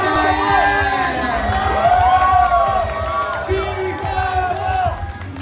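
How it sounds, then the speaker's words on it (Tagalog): A large crowd of cast members and waiting fans at a TV studio screams and cheers continuously, with shrill whoops rising above a dense roar of voices. "Pagpasok pa lang nila Coco at Julia ay todo sigawan na ang mga cast at ang mga nag-abang sa kanila"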